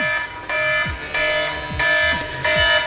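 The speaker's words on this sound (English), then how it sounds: "they definitely have to get up in order to turn off that alarm" A phone alarm rings as a wake-up prank, sounding a loud, urgent electronic beep pattern in rapid bursts, roughly two per second, that repeats insistently with no voices.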